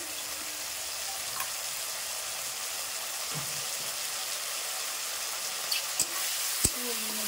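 Ginger, cumin and chili paste frying in a pan give off a steady soft sizzle, with a few light clinks and scrapes of stirring near the end; no one speaks.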